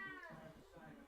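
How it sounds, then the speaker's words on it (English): A cat meows and wails faintly in the background, two or three short drawn-out cries in quick succession, with a person talking over them. "Pardon the screaming cat in the background."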